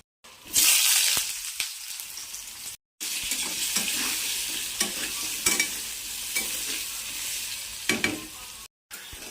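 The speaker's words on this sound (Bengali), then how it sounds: "এভাবে লাল লাল করে ভেজে নেব সবগুলো ফুচকাগুলো" Pieces of flour-dough fuchka deep-frying in hot oil give a steady, close sizzle. Brief stirring clinks break through, and the sound drops out twice for short gaps, with no talk.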